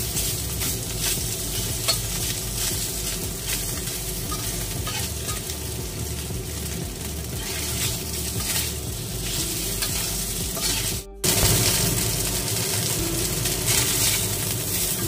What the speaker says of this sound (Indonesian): ditumis atau digoreng ya daging filet ayamnya yang sudah dibumbu tadi